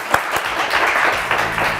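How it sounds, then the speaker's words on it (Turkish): Studio audience on the Turkish quiz show Kelime Oyunu breaking into applause, a loud, steady burst of many hands clapping close up. "Kocaman alkışlar lütfen."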